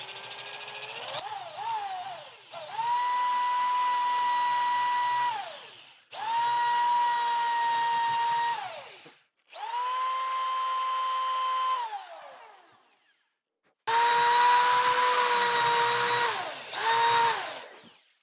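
A power drill whines in several bursts as a 7/8-inch spade bit bores into wood, each run winding up and slowing down, with short pauses between.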